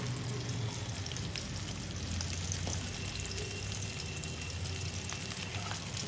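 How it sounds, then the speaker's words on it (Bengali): Hilsa fish frying in mustard oil in a kadai gives a faint, continuous crackling sizzle, even and unbroken, with no voices. "এই যে ইলিশগুলো সর্ষের তেলে ভেজে নিচ্ছি ভালো করে।"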